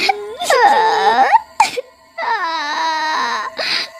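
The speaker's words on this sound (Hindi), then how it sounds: "अचानक किसी औरत के रोने की आवाज आती है" Woman crying as a horror story sound effect, two long high wavering wails split by a short gasping break, loud and close with no other sound.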